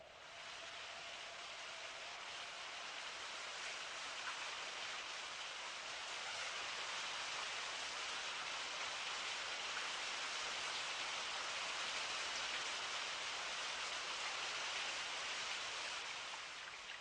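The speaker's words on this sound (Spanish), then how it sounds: "La respuesta está en el agua, y en Petra llueve." Rain falls in the desert at Petra as a faint, even hiss that holds steady throughout, with no voices.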